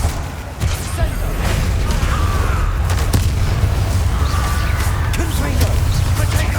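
Booming blasts from Confringo spell explosions in a Harry Potter video game. The heavy, rumbling bursts are continuous and loud, with sharp crackles layered over a constant low roar.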